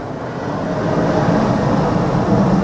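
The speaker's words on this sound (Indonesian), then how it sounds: "Gak kelihatan lagi, ada pesawat guys." Airplane passing overhead outdoors, a steady broad roar that fills the whole clip at constant loudness, with no talk over it.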